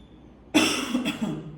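A single sharp cough, close and loud, followed by a second, smaller cough.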